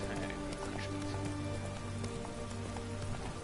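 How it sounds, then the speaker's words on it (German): Rain falls in The Witcher 3 video game, a dense, steady patter of drops on surfaces that holds a constant loud wash throughout, with no talking. "Es regnet sicher nicht mehr lang."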